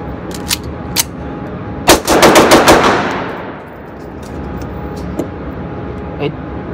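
A Taurus PT1911 pistol fires a rapid string of loud, sharp gunshots at close range outdoors. A few scattered single shots ring out before and after the string, and the echo trails off into ambient noise.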